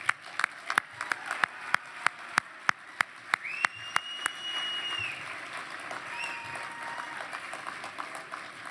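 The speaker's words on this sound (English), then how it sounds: "let's give them a round of applause" An audience at an indigenous business awards event in Vancouver claps, a few distinct loud claps building quickly into sustained, dense applause that continues steadily to the end.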